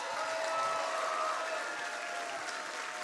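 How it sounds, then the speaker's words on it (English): Studio audience at a stand-up comedy show gives a steady round of applause and cheering, a dense wash of clapping that fills the whole moment without talk. "give yourselves a round of applause."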